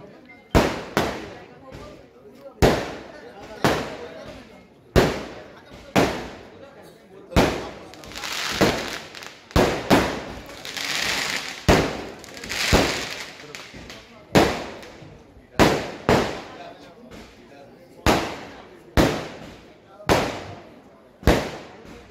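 Fireworks at a beach birthday celebration, a long series of sharp bursts and pops repeating every second or two, with crackling and a crowd noise swell in the middle.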